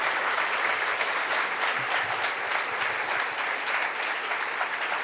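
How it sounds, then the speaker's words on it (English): Sustained audience applause after a lunchtime talk on health care, a dense, steady wash of many hands clapping at once, loud and continuous throughout with no speech over it. "Let's have a round of applause for him."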